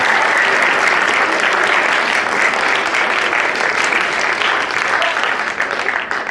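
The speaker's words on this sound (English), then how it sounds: "Let's give them a great round of applause" A school assembly crowd gives the Mustangs a sustained round of applause, dense steady clapping at full volume for about six seconds, easing slightly near the end.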